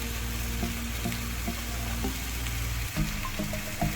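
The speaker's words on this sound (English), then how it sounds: "give that a good stir up" Three-bean chilli ingredients, with vegetable stock and chipotle paste, sizzle steadily in a pan. A spoon stirs them, making soft, regular scraping knocks about every half second. There is no talking.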